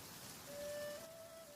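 Rain in the video game Minecraft, a steady soft hiss of falling drops, faint and even throughout with a thin tone briefly running over it.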